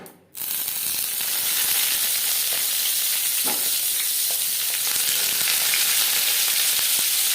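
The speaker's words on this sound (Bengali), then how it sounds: "তেল গরম হয়ে যাওয়ার পর দিয়ে দিলাম বেগুন" A brief thud, then eggplant slices hitting hot mustard oil over a gas flame and sizzling loudly, a steady bright crackle that continues with occasional faint clinks.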